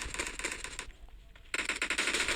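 Kar98 bolt-action rifle gunfire in an online shooter video game: dense, rapid crackling shots fill the clip, break for a short lull, then resume loudly, with no voices heard.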